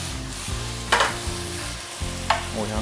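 Ground pork and onion stir-fry in a pan for Taiwanese braised pork rice, a dense close sizzle with a few bright scraping strokes of a spatula across the pan, with no voices.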